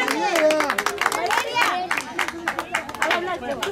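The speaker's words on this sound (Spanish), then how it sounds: "Fuerte los aplausos." A birthday party audience claps in a quick, uneven patter of hand claps, with lively voices and chatter mixed in throughout.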